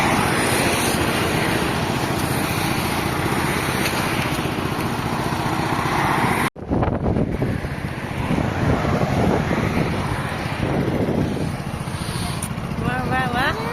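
Cool wind roars across the microphone by a roadside, a loud, steady, broadband rush that fills the whole stretch, with a brief break midway and faint road and vehicle noise beneath.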